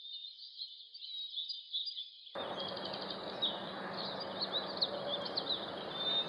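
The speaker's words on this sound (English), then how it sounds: "Nashville warbler." A Nashville warbler sings a high, thin song of rapid trills and chirps, steady and fairly clear, with a soft background hiss of wind or insects building partway through.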